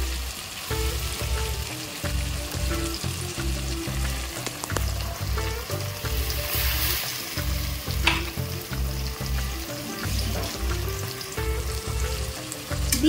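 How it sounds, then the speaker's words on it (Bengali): Ground spice paste hitting hot oil with browned onion and tomato in a pan for a Bengali-style tofu curry, a steady close sizzle and crackle that runs throughout, with rhythmic scraping and stirring strokes and no talk. "এবার আমি এর মধ্যে বেটে রাখা মশলাটা দিয়ে দিচ্ছি"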